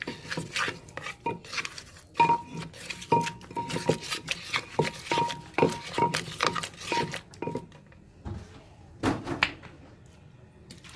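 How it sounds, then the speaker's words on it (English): Corn papaya salad mixed with paste and sugar, a steady run of close clinking, tapping and scraping of utensils against a bowl, then sparser knocks toward the end, with no talk. "Then we're going to put in the paste sugar. Right, then we're going to lightly mix them."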